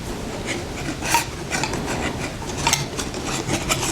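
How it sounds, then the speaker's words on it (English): A whisk stirring dry flour, baking powder, baking soda and salt in a bowl, producing close, quick rasping scrapes in an uneven rhythm with a few louder strokes. "So give that a quick whisk."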